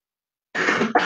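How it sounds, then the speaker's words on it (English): A person with a cold coughs close to the microphone after a moment of silence, one harsh sustained cough followed quickly by a second burst. "Sorry, I've got a cold this week, so forgive my coughing, everybody."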